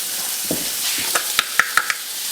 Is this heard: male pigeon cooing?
no